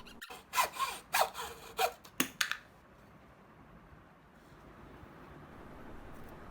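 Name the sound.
chopping down corners of a wooden bowl blank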